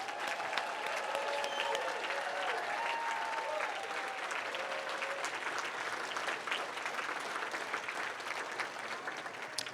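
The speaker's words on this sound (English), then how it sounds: "Can we please have one more huge round of applause for all of our youth poets?" Audience applause for youth poets at the 22nd annual Whatcom Dispute Resolution Center Peace Builder Awards ceremony: steady, full crowd clapping for nearly ten seconds, with a few voices whooping over it early on.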